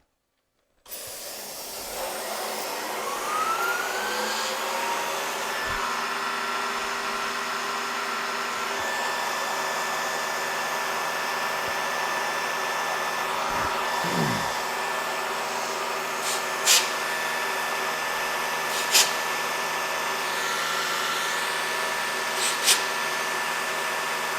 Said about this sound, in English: I'm using climb milling for the finish pass because it produces a better surface finish.